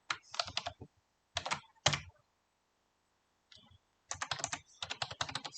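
Quick bursts of typing on a computer keyboard, rapid clicky keystrokes in short runs separated by pauses, close and crisp in a quiet room.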